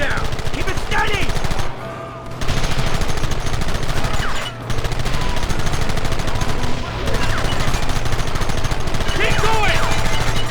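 Loud rapid machine-gun fire from a Red Dead Redemption shootout, sustained bursts rattling almost nonstop with two short pauses, dense and close over the action.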